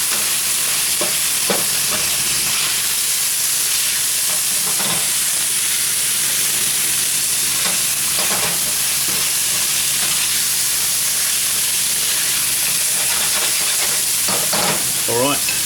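Beef browns in a pan for goulash with a loud, steady sizzle and hiss that runs throughout, broken by frequent scraping stirs close by.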